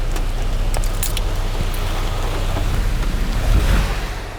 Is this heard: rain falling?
yes